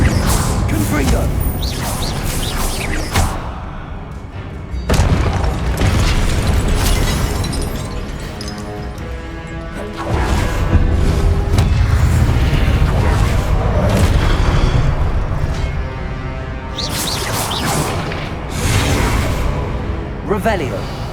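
Repeated Confringo fire spell blasts in Hogwarts Legacy, several loud booming explosions and crashes spaced a few seconds apart, mixed with mechanical rumbling and game music, with a voice speaking between them.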